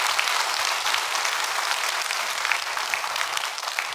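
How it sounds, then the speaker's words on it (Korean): A church congregation claps together in steady, dense applause that fills the room for several seconds without a break. "박수 한번 해 주실래요?"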